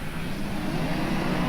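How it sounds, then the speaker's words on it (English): Sprint cars racing at Newcastle Motordrome speedway, a dense wash of engine roar from several cars at a distance, steady and moderately loud with no commentary. "Sprint car action coming our way."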